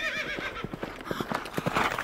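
A saddled horse whinnies with a wavering, high neigh at the start, followed by steady clip-clop hoofbeats that pick up pace, close and clear over a faint background.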